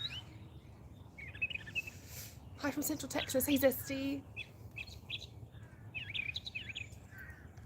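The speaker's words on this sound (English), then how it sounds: "The bird sound is very nice this morning." Birds chirp and sing through a morning in Central Texas, scattered high calls coming and going at moderate distance while someone talks over them.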